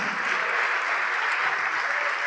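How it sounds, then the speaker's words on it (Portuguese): Church congregation applauding during a service, a steady, dense wash of many hands clapping at once, continuous and fairly close throughout with no pauses. "vamos aplaudir mais"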